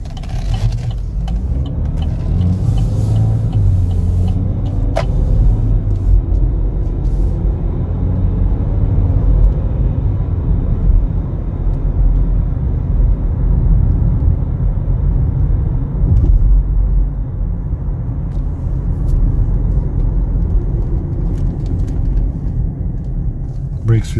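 A car drives along a road in a steady, loud rumble of engine and tyre noise heard from inside the cabin, with little change in pitch throughout.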